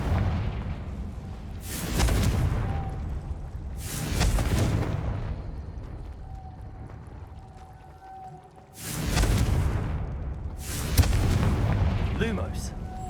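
Confringo blasting spell explosions in the video game Hogwarts Legacy: four heavy booming blasts in two pairs separated by a lull, each a loud low burst with a rumbling decay.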